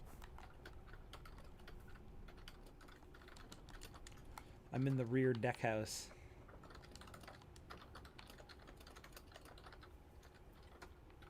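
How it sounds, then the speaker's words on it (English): Rapid clicking of keys on a computer keyboard in a video game scene, steady soft tapping throughout, with a voice briefly speaking over it midway. "Someone's typing. I'm typing."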